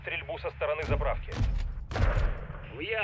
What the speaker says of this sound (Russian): Наблюдаю стрельбу со стороны заправки.